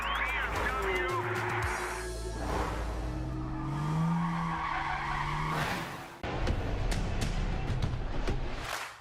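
A BMW drift car at a Formula Drift event in Atlanta skids with squealing tires and a revving engine. Loud, sustained screeching runs under an excited announcer's voice and crowd noise.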